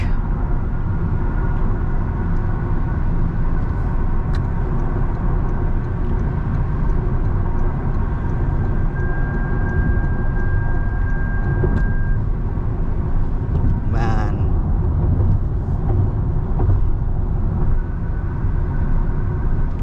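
Steady interior cruising noise from a 2025 Toyota Camry Hybrid at highway speed around 120 km/h near 1300 rpm, a continuous low road and engine rumble with a faint whine, passing traffic briefly swelling.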